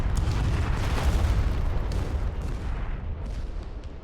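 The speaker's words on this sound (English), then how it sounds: "I would much rather deal with the enemy artillery fire, honestly. They're just shooting at random." Enemy artillery fire in a Russian campaign war video game, a continuous rumbling barrage of deep booms and blasts that stays loud and dense throughout with no clear gaps.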